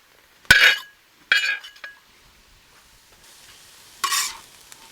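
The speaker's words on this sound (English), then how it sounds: "So now it's time for the peppers and onions from our garden." Homegrown peppers and onions hit a hot RecTec Matador outdoor wok cooker, giving three separate bursts of sizzling and scraping stirs with light metallic clinks, each fading quickly between tosses, heard close and without any talking.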